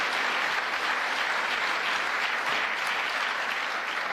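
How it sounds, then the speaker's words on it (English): Steady, dense applause from an audience at a presidential climate speech, loud and continuous throughout with no pauses or voices standing out. "yes, he deserves a round of applause for that"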